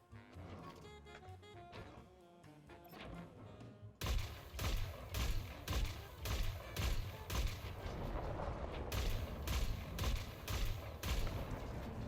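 Ship weapons firing in the space game Elite Dangerous, a quieter stretch giving way to a run of loud repeated thumping shots with booming low rumble, firing in quick pulses for several seconds.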